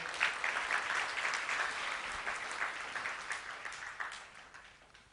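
An audience at an inspirational talk claps together in a continuous, even burst of applause that gradually tapers toward the end, heard alone without speech.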